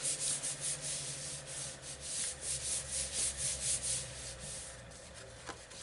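Rhythmic rubbing of paper on a handmade tree-themed Christmas card, a close, quick back-and-forth scratchy swishing repeated steadily for several seconds before easing off.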